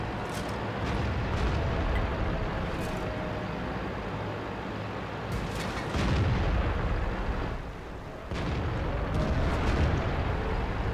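Artillery bombardment in the tank battle game World of Tanks: continuous heavy rumbling with dull booming impacts and bursts, loud and dense throughout, with a brief dip near the end before the din resumes.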